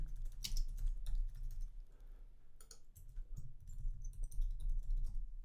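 Rapid, uneven clicking of keys on a computer keyboard, close and fairly quiet, with short pauses between bursts of typing.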